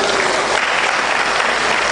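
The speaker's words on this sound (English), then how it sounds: "Put your hands together." Sustained, loud applause from a congregation at a funeral service, steady dense clapping filling the whole stretch without pause.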